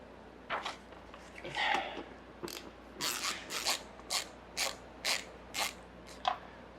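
A ratchet wrench loosens bolts under the front fascia of a C7 Corvette Z06 in a garage. It makes a series of evenly spaced, crisp clicking bursts at close range, with faint shuffling between them.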